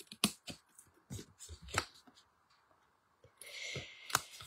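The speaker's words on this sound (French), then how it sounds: "On prend les ciseaux de précision et puis bah, on va biseauter nos 4 petites languettes." Precision scissors bevel-cutting small paper tabs for a scrapbook compartment bag, giving a series of quiet, crisp snips and clicks, isolated and close, with a softer rustling stretch near the end.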